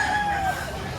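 Chickens at a poultry sale in Lipa, Batangas, with a brief rooster-like call and clucking heard briefly amid background noise.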